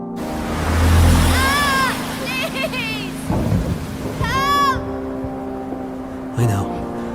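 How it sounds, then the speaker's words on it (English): A heavy coastal thunderstorm in a game trailer: loud rumbling thunder rolls under a steady wash of rain, with bursts of bright, sweeping tones and scattered thuds, all close and full. "A major storm's heading for the coast."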